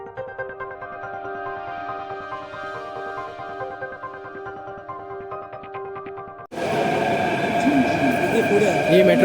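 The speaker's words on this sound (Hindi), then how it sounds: "ये मेट्रो आ गई है।" A metro train at an underground station: a steady tonal hum and whine for several seconds, then a sudden loud broadband roar and rumble as it pulls in, with no talk.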